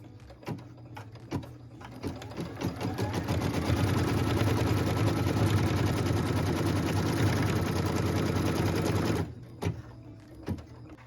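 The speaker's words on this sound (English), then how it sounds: "What we're stitching now is the tack down line for piece number 12." A sewing machine stitches a tack down line on a quilt block, a loud, steady mechanical whir for about five seconds, with softer clicks and handling before and after.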